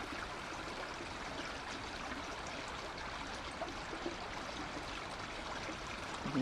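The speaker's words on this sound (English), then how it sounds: "listen to this beautiful stream" A woodland stream, fed by groundwater and a spring-fed pond, flows steadily in a soft continuous wash of trickling water that stays even and unbroken throughout, with no voices.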